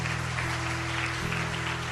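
A church congregation claps steadily through a Portuguese-language sermon, a continuous wash of applause with a low sustained tone beneath it.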